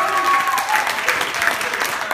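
A children's church audience cheers and applauds at a kids' week service, with a dense burst of clapping and shouts close by and some voices mixed in.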